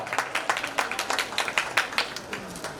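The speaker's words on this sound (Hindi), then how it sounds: "इस कलाकार के लिए एक बार जबरदस्त तालियां होनी चाहिए" An audience at a school celebration claps for a performer, a thin, fairly faint patter of many hands keeping a quick irregular beat throughout.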